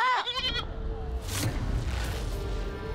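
A goat bleats once, loud and close, with a wavering nasal cry at the start, followed by ongoing rumbling background noise and faint voices.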